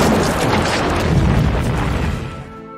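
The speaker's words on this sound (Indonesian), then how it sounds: "ledakan jatuh tepat di depan dan menghentikan pergerakan mereka" A mortar shell explodes near a bridge in a Vietnam War film scene, making a single loud, close boom with a broad rumble that slowly fades out.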